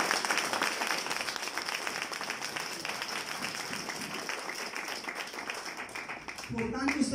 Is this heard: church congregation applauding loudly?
yes